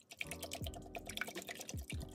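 Eggs, milk and sugar are poured and stirred together for crepe batter, giving short wet splashes and quick clinking whisk strokes over about two seconds.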